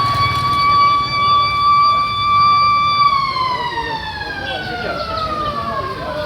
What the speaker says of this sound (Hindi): तो आप देख सकते हैं सायरन बज चुका है।